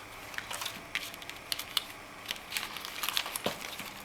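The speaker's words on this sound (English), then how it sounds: "I'm going to put them in my plastic bag" Bean seeds drop into a plastic bag, making close, crisp crinkling bursts and light rustles that come in irregular clusters with no voices.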